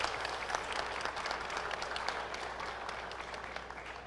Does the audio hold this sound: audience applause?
yes